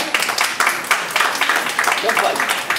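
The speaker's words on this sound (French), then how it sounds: "Merci, mesdames et messieurs, merci de votre attention, sous vos applaudissements." Audience applause at the close of a chocolate tasting talk, a dense, continuous burst of many hands clapping fairly close and loud for about three seconds.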